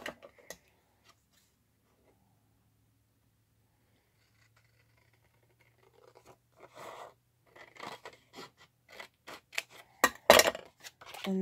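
Paper is cut with scissors along a folded line while making a flip book, a run of close crisp snips that builds from sparse clicks to quick irregular cuts after a long quiet stretch.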